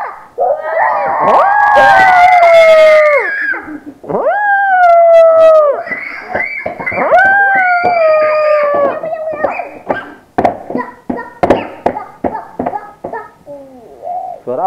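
A voice imitates an elephant with loud, wavering trumpeting calls, followed by a string of shorter, choppy vocal bursts.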